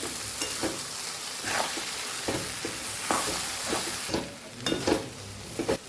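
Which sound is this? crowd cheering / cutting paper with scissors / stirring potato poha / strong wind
stirring potato poha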